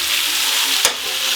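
Steak frying in a pan for steak au cinq poivres, a loud, dense, close sizzle that holds steady, with a single brief clack near the middle as the meat is handled.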